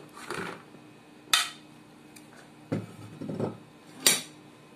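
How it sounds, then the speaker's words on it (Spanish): Cooked pasta tipped into a bowl and stirred, with several sharp utensil clanks against the dish over soft scraping, close and clear with no talk. "Vamos a incorporar la pasta a nuestro bol."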